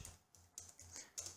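A computer keyboard is typed on at a terminal, a handful of faint, close key clicks arriving in an uneven rhythm.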